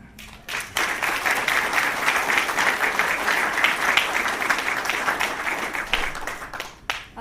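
An audience claps steadily to welcome a speaker at a photography lecture on the joining of the Transcontinental Railroad, a sustained dense round of applause that swells quickly and fades out near the end.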